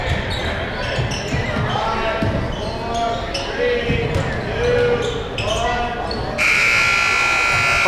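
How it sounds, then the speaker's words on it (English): At a girls' high school basketball game, a loud long buzzer ends the first quarter and sounds over a gym full of crowd noise, sneaker squeaks and a commentator's voice. "Shot at the buzzer doesn't fall. The first period ends."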